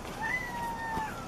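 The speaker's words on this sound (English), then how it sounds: "My kitty in the background." A pet cat meows faintly in the background, one drawn-out, wavering cry set against a quiet room.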